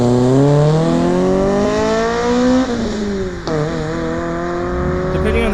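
A Toyota MR2 Spyder with a swapped 2ZZ 1.8-litre engine revs loud and close, its tone climbing steadily, dipping briefly at a gear change, then rising again in a high-pitched wail.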